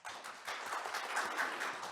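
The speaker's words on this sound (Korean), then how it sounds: "여러분 박수로 청해 듣겠습니다" An audience at a keynote session of a summit gives steady, moderately distant applause that rises and holds through the moment, with no voices over it.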